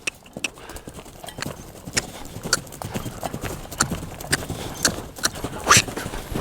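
A horse loping, its hoofbeats a steady three-beat rhythm of moderately loud thuds close by, with faint background noise and no talking.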